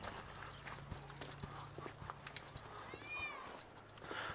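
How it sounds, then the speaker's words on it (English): A cat meows once, briefly and near, amid outdoor background noise and shuffling footsteps beside a 1967 StarCraft Holiday camper. "Hey there, Mr. Kitty. How you doing"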